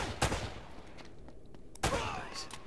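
Gunfire in the video game Uncharted: Drake's Fortune: two sharp, loud bursts about a second and a half apart, each trailing into a noisy decay, with no talk over them.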